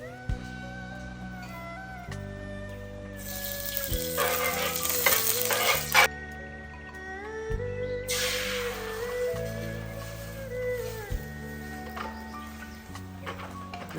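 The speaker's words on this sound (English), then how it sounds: "I just fried them up in some ghee" Two eggs frying in ghee for scrambled eggs give a soft, close sizzle that swells in two bursts, partly buried under steady background music playing throughout.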